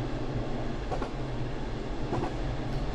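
Train running on the Kashima Line in JR EAST Train Simulator, a steady low rumble with soft periodic wheel clicks, heard close and continuous with no talk.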